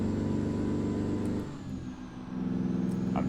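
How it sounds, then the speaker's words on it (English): A Kenworth W900 heavy-haul truck engine in American Truck Simulator, a loud, steady low diesel drone that dips briefly midway and then swells back up as it revs again. "be able to rev it up, get some speed, see what she does"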